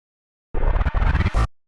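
A reversed, flipped sample pitched down a few notes in an FL Studio drill beat swells up with a wet, smeared texture, sounding loud in about three chopped bursts that cut off abruptly after a moment of silence.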